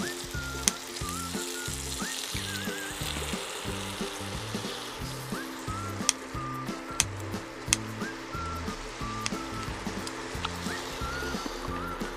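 Kimchi joins pork stir-frying in a hot pan, a loud continuous close sizzle with rhythmic stirring thumps and scattered sharp clicks of the utensil against the pan.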